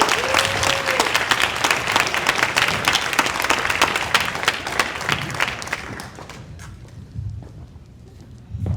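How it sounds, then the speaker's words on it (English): Audience applause at a volunteer awards banquet, a burst of close, dense clapping that carries for several seconds, then thins to scattered claps and faint murmuring with a brief swell near the end. "Give him a round of applause."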